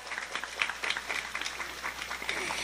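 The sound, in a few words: audience applauding for the organizing committee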